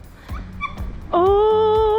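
A happy dog gives a rising, wavering whine and soft yips, loud and close, after a brief stretch of quieter rustling and thumps.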